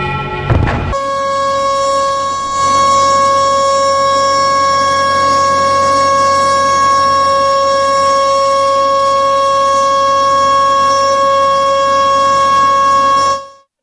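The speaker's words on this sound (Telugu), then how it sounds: "దేశవ్యాప్తంగా మార్మోగేటువంటి సైరన్ సౌండ్ ఇది" A civil defense air raid siren tested for a nationwide mock drill in India sounds as a loud, steady, sustained wail that holds one pitch for over ten seconds, after a brief burst of noise.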